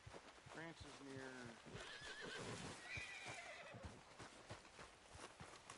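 Horse neighing and whinnying in Red Dead Redemption 2, loud and close, with clip-clopping hooves and a rhythmic game soundscape underneath, and someone speaking over it.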